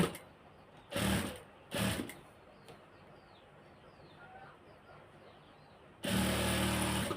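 Sewing machine stitching fabric pieces onto a dress, running in three loud bursts: two short runs early on, then a longer one at the end. Quiet room tone fills the gaps between them.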